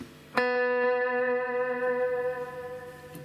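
A sustained electric guitar chord rings out after a sharp attack, its tone washed in echo and reverb as the notes slowly decay.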